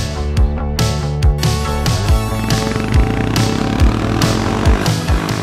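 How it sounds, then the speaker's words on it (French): A motorcycle in the Alps fails to start, its starter cranking in a steady rapid rhythm of repeated loud mechanical pulses close by while the engine never catches. "J'arrive plus à démarrer la moto."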